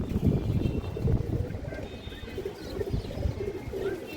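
Pigeons coo repeatedly in a loft, with low throaty rolling calls coming in soft pulses over a busy background of shuffling and faint voices.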